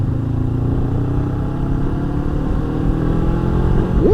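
A Honda CB500X motorcycle engine hums steadily while riding, a close mid-pitched drone with wind rush and a slight rise in revs near the end.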